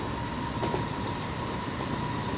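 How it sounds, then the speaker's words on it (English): Train rumbling along in Transport Fever 2, a steady moderately loud rolling drone with a faint clatter and brief squeaks, no voices. "the train's actually driving from the back carriage"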